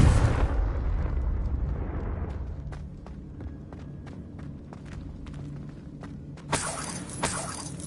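A Confringo fire spell bursts with a loud explosive blast in the Hogwarts Legacy video game, then rumbles away into a quieter spell of scattered footsteps and clicks before two sharper crackling bursts near the end.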